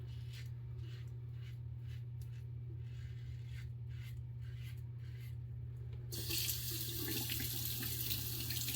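A razor is rinsed under a running tap. A steady water stream carries soft, repeated swishes, then the flow gets louder and fuller near the end. A low constant hum sits underneath.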